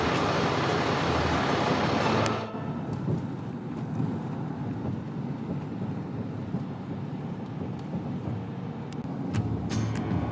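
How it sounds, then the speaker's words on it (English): Truck driving on the Tampa toll road in Florida, a steady road and engine rumble with wind noise that drops sharply after a loud opening stretch, then continues evenly. "we're back on the road and decided to drive on the Tampa toll road"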